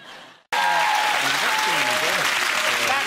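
Studio audience at a UK chat show with Justin Bieber breaks into loud, sustained applause and cheering, a dense wash of clapping that starts abruptly after a brief faint murmur and continues steadily.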